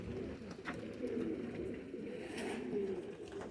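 Pigeons cooing at an outdoor pigeon show with a flock of a few hundred birds, soft repeated low coos in a dense background murmur.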